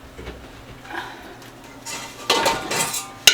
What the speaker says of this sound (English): Okay, I have more pots here.